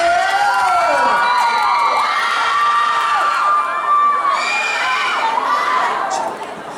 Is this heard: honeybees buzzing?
no